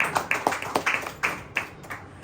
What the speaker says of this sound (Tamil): கைத்தட்டி ஆண்டவர் மகிழ்ச்சி.